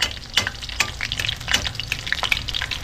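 Chopped onion and garlic frying in a pan, a steady crackling sizzle with bursts of stirring scrapes from a utensil, close and fairly loud, no talking.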